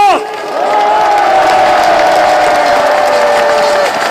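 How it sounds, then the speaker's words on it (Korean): A rally crowd at Busan Station plaza applauds and cheers, a dense roar of clapping and voices holding steady after a brief dip, with a long whistle-like tone riding over it. "감사의 뜻으로 뜨거운 박수를 한번 보내주십시오."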